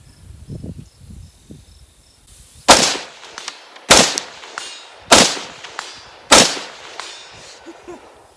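A Springfield Armory Saint Edge rifle fires five sharp, loud shots at steel targets 200 to 300 yards out, spaced about a second apart, each crack trailing a ringing clang, with insects chirping softly beforehand.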